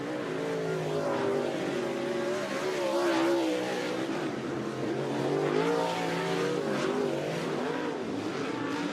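Late model race car lapping Shelby County Speedway, a continuous loud engine roar with rising and falling pitch as it passes, steady throughout with no talk.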